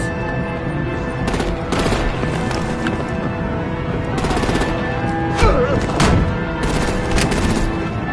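Dense battle noise from Batman: The Enemy Within, with artillery booms and gunfire. Heavy, continuous bursts of shots and explosive impacts keep up loudly throughout, and shouted voices cut in now and then.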